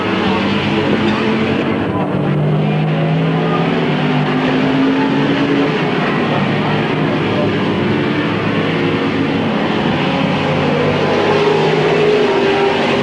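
Race cars roar around Midvale Speedway on the last lap, a dense continuous engine drone with shifting pitch as cars pass, steady and loud throughout while a track announcer talks over it.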